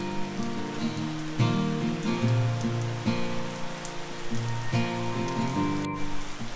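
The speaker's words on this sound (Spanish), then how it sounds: "está lloviendo" Steady rain falls outdoors, a soft, even patter across the whole stretch with faint background music or hum running underneath and no talking.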